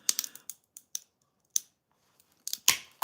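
Thick art glass being snipped shorter during glass processing, a series of sharp crisp cutting clicks and snaps, several in quick succession then a louder crack near the end, close by with no talk.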